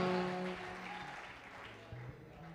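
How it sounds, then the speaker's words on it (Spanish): A church congregation claps during a Spanish-language service. The applause is faint and fairly steady, mixed with low tonal voices or music underneath. "Dale un aplauso a Dios."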